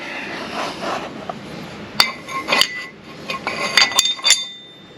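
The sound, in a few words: thin universal wheel spacer being bolted onto a hub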